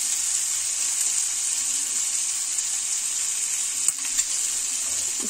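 Potatoes and salt frying in a pan for dhaba-style dum aloo, giving a steady, bright hiss of oil with a couple of soft knocks from stirring, close and continuous with no talking.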